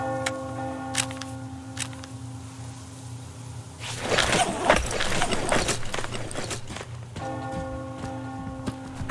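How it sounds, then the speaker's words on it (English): A bell rings in the video game Metro Exodus as rain patters steadily, its tolling swelling mid-way into a dense, loud wash before settling back under a faint, sustained hum. "Do you hear that bell?"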